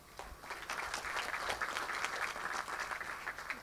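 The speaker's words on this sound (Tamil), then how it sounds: "நீங்கள் கொஞ்சம் கம்மியாக கைத்தட்டுறீங்களோ?" An audience at a Tamil speech event claps together in a steady, moderately loud burst of applause that fills the hall and carries on evenly without speech over it.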